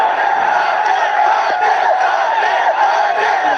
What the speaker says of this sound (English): those in attendance are just cheering every single run as if it's a massive event